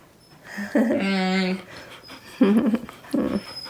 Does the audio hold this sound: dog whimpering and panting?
yes